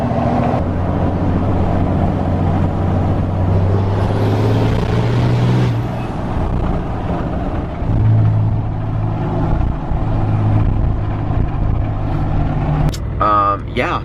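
New Cummins diesel truck engine idling with a steady low rumble throughout, heard from inside the cab while a person talks over it.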